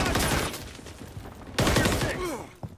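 Gunfire in the Call of Duty MWIII beta comes as two loud clusters of rapid close shots over a busy battlefield din, with a short sharp crack right at the end.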